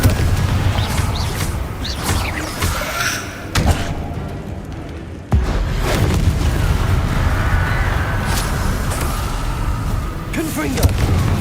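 Confringo blasting spell explosions in Hogwarts Legacy, heavy booms and thuds recurring over a dense rumbling bed of combat noise, with a sharp blast near the middle; voices are heard casting in between.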